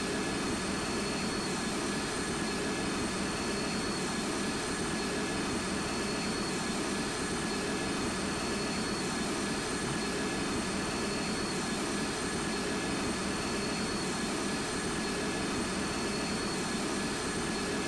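Steady, unbroken jet engine roar of a Virgin Atlantic A350-1000 airliner in the GeoFS flight simulator game, a constant broadband drone with faint high tones persisting throughout.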